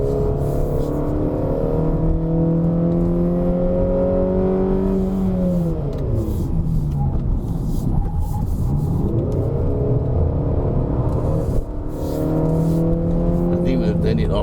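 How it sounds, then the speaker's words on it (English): A Peugeot 3008 SUV in sport mode plays a piped-in engine sound inside the cabin on a test drive near Genting, a loud droning hum with tones that rise and fall through repeated acceleration sweeps. "with the sports mode, there is a piped in sound"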